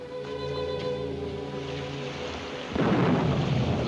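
A squall of rain sweeps in over open water near Hazlitt's Rock, with a steady low rumble of thunder and rain that suddenly swells louder, broad and close, with no talk.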